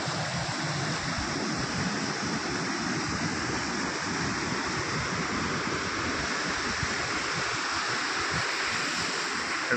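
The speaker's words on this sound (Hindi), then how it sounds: "देखो पानी गर्जन केमती सु सु होती" Loud, steady roar of rushing water from a waterfall or swollen river, a dense continuous wash close by with no pauses and no voices over it.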